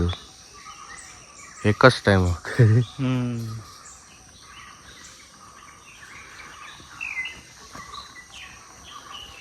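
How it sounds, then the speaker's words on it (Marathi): Birds call and chirp faintly in the Tillari forest, with a short burst of nearby talking partway through. "पक्ष्यांचा आवाज बघ इतके"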